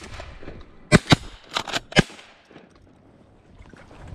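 A handful of shotgun blasts during a duck and goose hunt, fired in a quick uneven cluster of about five loud reports over roughly a second, with outdoor ambience before and after.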